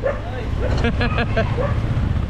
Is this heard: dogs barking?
yes